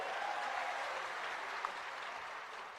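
A large crowd at a Rahul Gandhi rally in Badnawar claps in steady, dense applause, a continuous broad wash of hand claps heard from amid the audience for the whole stretch.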